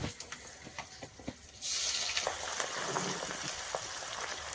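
Green chilies and ginger dropped into hot oil for an olive pickle burst into a loud, steady sizzle after a quieter start, a dense crackling frying hiss that holds to the end.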